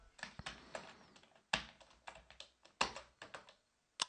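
A computer keyboard clacks nearby in short irregular bursts of keystrokes with brief pauses between, fairly quiet and with no voice over it.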